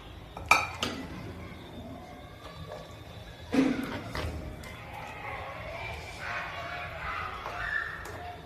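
Cooked chicken, first cooked in turmeric and salt, is tipped into a pan of masala with coriander powder, making a few sharp metallic clanks of the spoon on the pan, then softer scraping, while someone talks.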